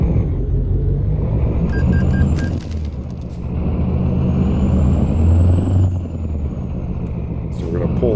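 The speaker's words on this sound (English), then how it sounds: "I'm taking the parking brake off." A truck's parking brake releases with a short hiss and clunk over a steady low diesel rumble in American Truck Simulator, while a voice talks throughout.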